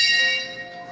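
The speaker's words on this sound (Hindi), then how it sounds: "आपको घंटी भी सुनाई दे रहा होगा।" Temple bell at Jivdani Devi temple in Virar, Mumbai, giving one bright metallic ring that fades over about a second, fairly close and clear.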